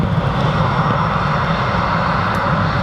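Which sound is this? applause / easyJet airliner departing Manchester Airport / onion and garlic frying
easyJet airliner departing Manchester Airport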